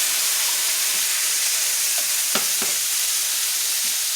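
Canned tomatoes with juice going into a hot pan of ground beef, onions and paprika for Cuban picadillo, a steady loud sizzle with a couple of brief stirring knocks.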